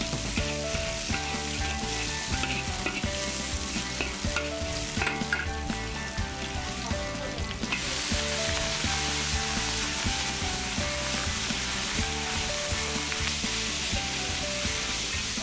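Vegetables stir-fry in hot oil, a dense, steady sizzle with scraping and tossing from stirring that runs throughout, with a brief stretch where the hiss grows louder, and no one talking.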